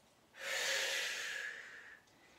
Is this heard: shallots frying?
no